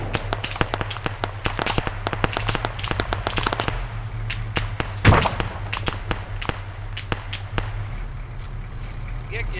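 Sharp gunfire cracks during a military field exercise with the 7th Cavalry, a rapid irregular series of loud close and mid-distance reports over a steady low engine rumble, with one heavier thump near the middle and voices nearby.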